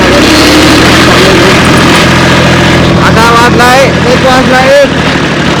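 A farm tractor engine runs close and loud as a continuous low rumble, with people talking over it.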